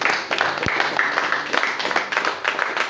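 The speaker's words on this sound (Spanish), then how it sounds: "Denle un fuerte aplauso al Señor" A church congregation claps during a Spanish-language sermon, a steady, dense wash of many hands at moderate distance filling the room without pause.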